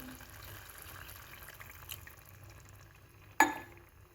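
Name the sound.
water being poured into mutton curry pan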